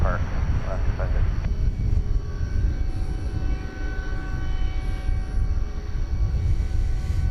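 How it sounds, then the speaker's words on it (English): An Alaska Airlines Boeing 737 MAX 9 taxis at night at DFW Airport, its jet engines a loud, steady roar throughout, with a brief voice near the start. "Alaska Flight 550 to Seattle, a MAX 9 is rounding the bend."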